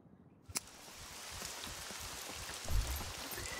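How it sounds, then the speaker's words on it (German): Rain in the video game SCUM patters steadily on a surface after a sharp onset, with scattered droplet ticks and a low thump partway through. "Der Regen müsste ja eigentlich die Geräusche auch ein bisschen dämpfen"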